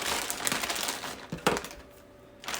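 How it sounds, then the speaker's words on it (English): Plastic mailing bag crinkling while fabric is unpacked, with irregular close crackles and rustles and a sharper burst partway through before it quiets. "Don't you love to hear that paper crinkling? Plastic."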